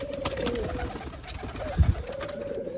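Rooftop pigeons of a Mian Nazir bloodline in Sialkot coo in low, throaty rolls, with a brief flutter of wings midway and faint background noise throughout.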